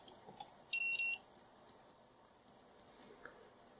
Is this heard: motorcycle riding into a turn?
no